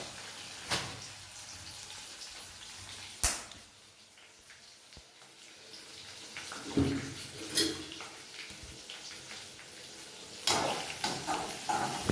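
Okra curry being mixed with a ladle in a pan, giving soft scraping and stirring sounds over a faint sizzle, punctuated by a few sharp clacks of the ladle against the pan.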